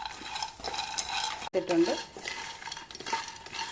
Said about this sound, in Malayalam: ഒരു പാൻ അടുപ്പിലോട്ട് വെച്ചിട്ട് രണ്ട് കപ്പ് കപ്പലണ്ടി ഇട്ടിട്ടുണ്ട്. ഇത് നമുക്ക് ചെറുതായിട്ട് വറുത്തെടുക്കാം.